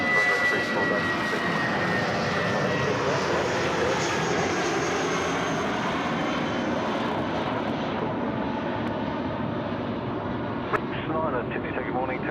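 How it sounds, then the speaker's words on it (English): A jet airliner rotates and lifts off close by on runway 34 left at Sydney Airport, a broad, steady engine roar filling the scene and gradually thinning as it departs, with voices over it. "Getting some close-up action of these takeoff rotations"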